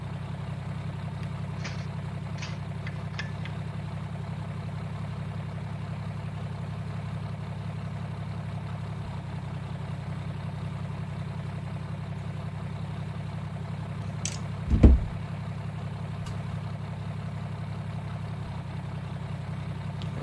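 A truck engine in the MudRunner off-road game idles in a steady low drone for the whole stretch, with faint high whistling tones and a single brief thump near the end.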